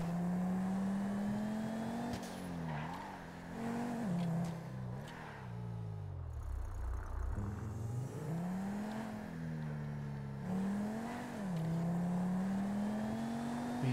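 A sports car in a video game drives and revs continuously, its engine note rising and falling through repeated accelerations and gear changes, loud and close throughout with a brief dip in the middle.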